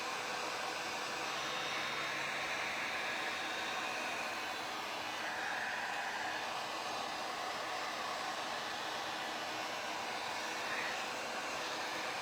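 A heat tool blows a loud, constant airy roar without pause as WoodUbend moulding is warmed to soften it, with no talking heard.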